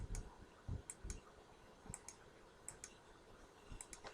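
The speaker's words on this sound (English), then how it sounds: "So we can just click here and we'll get a rotation on that." Computer mouse clicking during macro work in a rotation tool, producing a series of faint, crisp clicks spaced irregularly over a quiet background.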